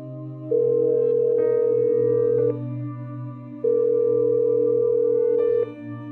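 A phone call rings out as two long, steady electronic tones, each about two seconds, separated by a pause over a faint low background hum.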